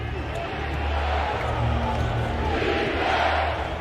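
Dense, steady crowd roar fills a basketball arena at the start of a Clippers vs. Nuggets NBA playoff game, with spectators cheering and standing continuously throughout under low rumbling noise.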